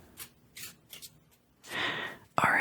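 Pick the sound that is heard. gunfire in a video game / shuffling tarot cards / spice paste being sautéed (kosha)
shuffling tarot cards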